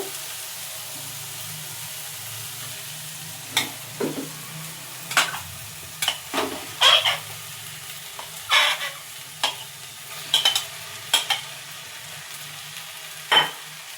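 Spiced fish chop mixture fries with ginger and garlic in a pan: a soft, steady sizzle is broken by repeated sharp spatula scrapes and clinks at irregular intervals.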